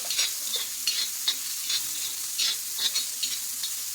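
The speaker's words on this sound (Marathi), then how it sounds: "कांदा चांगल्या तेलामध्ये असा फिरून घेऊ" Onion frying in hot oil with mustard seeds for a dried karandi shrimp dish, with a steady bright sizzle and a spoon scraping and stirring in regular strokes roughly every half second, close and alone.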